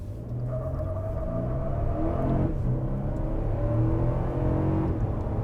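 A 2022 Toyota Tundra TRD Pro prototype with a 3.5-liter twin-turbo V6 hybrid pulls away hard without launch control, its engine a steady, loud rumble that rises in pitch through the run with no talk.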